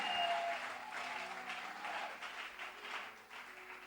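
A crowd applauds and cheers at a church gathering, a dense, steady roar of clapping that holds evenly for a few seconds at moderate distance.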